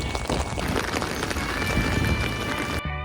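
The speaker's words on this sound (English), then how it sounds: "it's raining so hard" Heavy rain pouring down on a Manhattan street, a dense, steady hiss that stays loud and continuous for nearly three seconds before cutting off abruptly.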